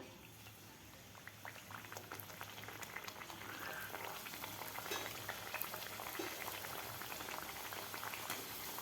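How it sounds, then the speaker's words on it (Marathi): Banana puris fry in hot oil over medium heat, giving a soft, continuous bubbling crackle that builds slightly and stays faint and steady throughout. "मीडियम हीटवरच आपल्याला हे पुऱ्या तळायच्या आहेत"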